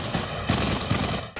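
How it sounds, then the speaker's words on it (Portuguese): Gunfire from shooters firing at police officers, heard as a few loud cracks in quick succession over dense, noisy background sound. "Do lado de dentro, atiradores disparam em direção aos oficiais."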